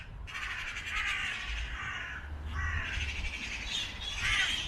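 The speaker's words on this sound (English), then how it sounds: "I think the magpies are trying to get in the nest for the crows." Several crows caw loudly and repeatedly from a tree in a churchyard, harsh calls overlapping in a busy, agitated chorus with magpies nearby.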